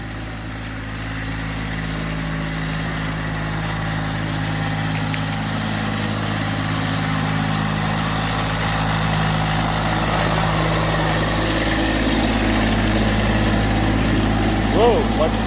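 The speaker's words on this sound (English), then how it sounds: "We bought a tractor, as you can see, is coming" Tractor engine running steadily on newly firmed-up off-grid land, a low droning hum that grows slightly louder as the machine approaches, with no speech heard.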